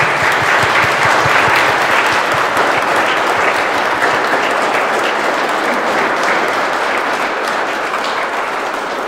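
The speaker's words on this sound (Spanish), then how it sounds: "Vamos a darle otro aplauso a estos muchachos." Warm, continuous applause fills a church as guests clap for a couple celebrating their silver wedding anniversary, a dense, even wash of hands lasting several seconds and slowly easing.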